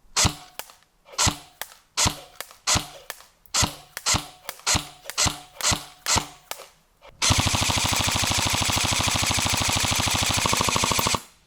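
Airsoft M4 rifle fires a rapid series of loud, sharp single shots, then a sustained full-auto burst of about 12 rounds per second that runs steadily for several seconds before stopping.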